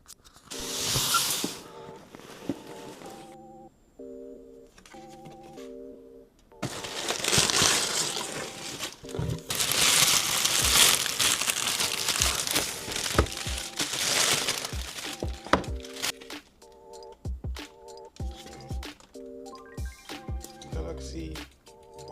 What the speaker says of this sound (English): Quick unboxing of my new Galaxy Z Fold 8